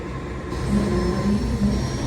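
A train at an Indonesian railway station on the Madiun–Surabaya line, a steady low rumble with faint whining tones and a quiet hiss, fairly loud and continuous, with no voices.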